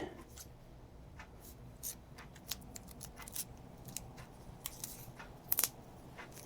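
Scissors snip a strip of material in half while fitting a GIVI radiator guard on a Suzuki DL800 V-Strom, a few faint, close clicks and cuts over quiet background.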